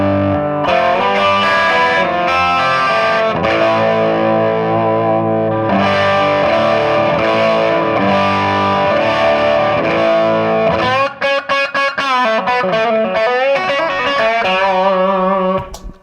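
Electric guitar played through a 3 Monkeys amplifier on one of its cleaner settings, strummed chords ringing loud and continuous, then shifting to picked single-note lines toward the end.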